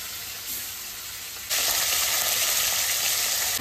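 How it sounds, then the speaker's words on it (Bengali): Koi fish (climbing perch) frying in hot oil, a steady close sizzle that jumps suddenly louder and brighter partway through, then holds strong to the end. "মাছটা বেশি কড়া করে ভাজবো না,"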